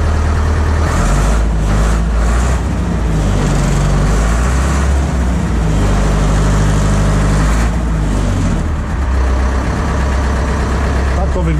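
A freshly rebuilt Ursus C-360 tractor engine runs loud and close, its heavy low rumble rising as the throttle is opened, with occasional voices faintly beneath it.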